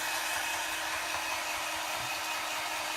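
A heat tool blows a steady, loud, even whoosh of hot air to dry ink for embossing, continuous and close for the whole stretch.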